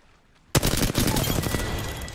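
Sudden sustained automatic gunfire bursts in after a moment of near quiet in the video game Apex Legends, loud and close with rapid continuous shots.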